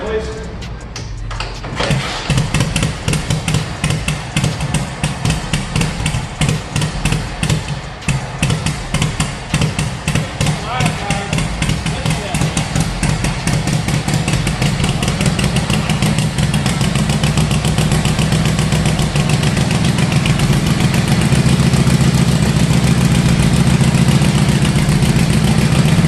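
A motorcycle kickstarted into a loud, rough idle that settles into a steady, throbbing run for more than twenty seconds, with someone talking over it.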